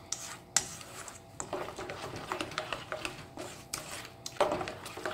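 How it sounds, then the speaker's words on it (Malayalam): A spoon stirs a satay marinade in a bowl, giving soft scraping and rubbing strokes with irregular clinks of metal against the bowl, fairly close and quiet. "ഇനി ഇത് നന്നായിട്ട് മിക്സ് ചെയ്തെടുക്കുക."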